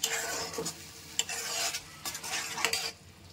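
Ridge gourd paste with prawns stirred in a pan over high flame, several brisk scraping spatula strokes over a watery sizzle, close and clear with no talking.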